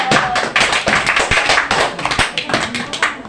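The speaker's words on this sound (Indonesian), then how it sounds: "Tepuk tangan." A group claps hands in a classroom, a loud run of uneven claps and taps with voices mixed in.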